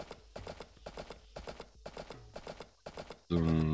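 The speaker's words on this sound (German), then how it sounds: "wenn ich jetzt mein Pferd rufe, kommt das?" Horse hooves clip-clop in a steady rhythmic series from a called horse in the farming game Story of Seasons: A Wonderful Life, fairly close and alone, ending in a sudden loud burst of game music.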